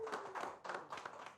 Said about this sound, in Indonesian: tepuk tangan dulu buat Ray.